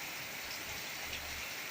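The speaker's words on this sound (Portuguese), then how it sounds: "Dá uma olhada que coisa mais linda de chuva que está caindo aqui na chácara." Calm, steady rain falls on a rural country property on a Sunday afternoon, a soft continuous hiss of drops on surfaces with no voices.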